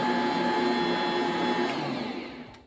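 A stand mixer kneads sourdough dough for a sandwich loaf, its motor giving a steady, loud whirring hum that slowly fades toward the end, with no speech.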